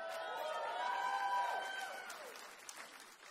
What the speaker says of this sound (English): Half of them clap for you raising from the dead.